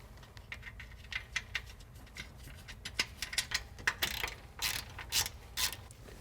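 Ratchet wrench clicking as a bolt is tightened on a Jeep Wrangler front brake bracket, rapid bursts of close pawl clicks building louder toward the end, with no talk.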